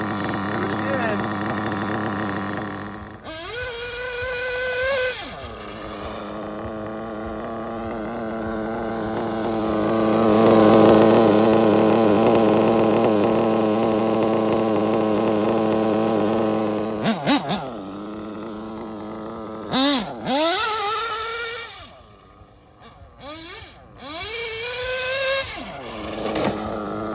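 An OS MAX-B21 nitro model engine runs through its break-in, a loud, steady high-pitched buzz with rising and falling revs and a few sharp throttle blips near the end; a voice speaks briefly in the background.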